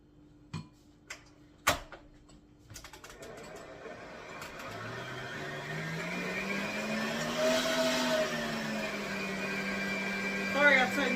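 Electric hand mixer beating apple streusel cheesecake batter in a home kitchen, starting after a few sharp knocks and clicks, then a steady whirring hum that shifts pitch as speed changes, close and fairly loud.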